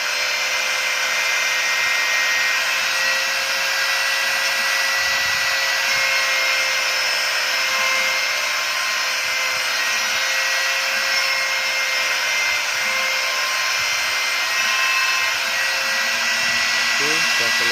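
A small CNC router carves a design, giving a steady, loud high-pitched whine with broadband grinding that runs continuously and evenly throughout.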